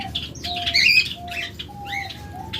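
A pair of pet birds, one of them an albino female, chirp and tweet close by in short bright bursts that overlap, with a soft hum of room noise underneath.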